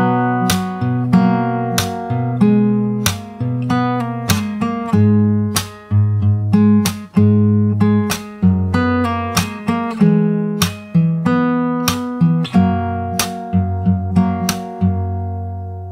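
Fingerstyle acoustic guitar playing the bridge of a song, with plucked chords ringing out in a steady, gentle rhythm, each strum decaying before the next, played alone and up close.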